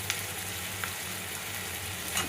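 Fish roe frying in oil with onion and chopped green chilli, a steady close sizzle with faint crackles and an occasional stir, no talk over it.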